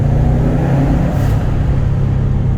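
Classic Subaru Impreza Turbo AWD engine rumbling under a bridge, a deep, steady, loud drone that reverberates close and continuous for the whole moment, with no talk.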